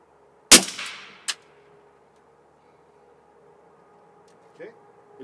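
A Canik TP9 SF pistol fitted with a small, light Trinity suppressor fires once: a sharp, loud report with a quick decaying tail, then a smaller metallic clack about a second later, followed by quiet and a faint clink near the end.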